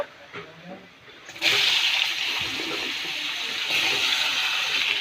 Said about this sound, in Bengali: এখন আমি ডাঁটাগুলি ঢেলে দেব।